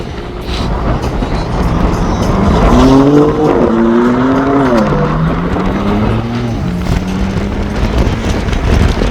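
A 2026 BMW X5M drifts with loud, sustained tire squeal whose pitch wavers and bends, over a steady roar of engine and road noise, close and continuous.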